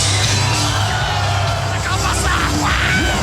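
A festival crowd in a video game yells and whoops as fans run a circle pit, a loud, constant roar of shouting voices over a low rumbling backdrop.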